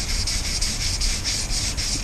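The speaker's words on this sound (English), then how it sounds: "Just throw a little sanding on there." Sandpaper rubbed over blemishes on a cured epoxy resin coat before the second pour, a steady close scratchy hiss with a soft rhythmic back-and-forth pulse running throughout.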